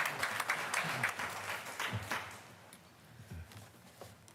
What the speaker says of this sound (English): So another big round of applause for our honorees tonight.